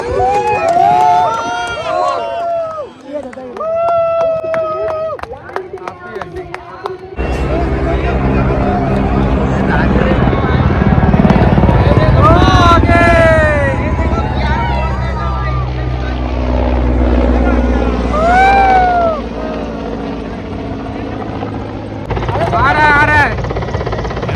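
Surya Kiran aerobatic team jets roar loudly overhead at an air show in New Raipur, a sustained engine rumble rising and swelling over a noisy crowd, with people talking and shouting throughout.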